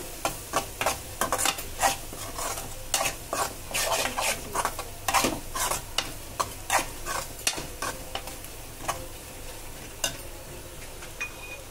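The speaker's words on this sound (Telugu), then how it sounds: "కారం కూడా వేసేసుకొని మంచిగా కలిపేసుకుంటున్నాను" Maggi noodles with chili powder are stirred in a pan, giving close, loud, rhythmic scraping strokes with a faint sizzle underneath, repeating steadily throughout with no speech.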